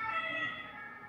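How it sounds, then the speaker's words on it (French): A passing ambulance siren rings out at moderate distance, its steady wailing tones holding for about a second and fading slightly as it goes by, with no voices over it. "Passage ambulance."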